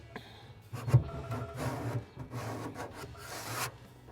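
Soot and grease are scraped off a pellet grill in a series of close, gritty rasping strokes, uneven in rhythm, with a metallic knock near the start and quiet pauses between passes.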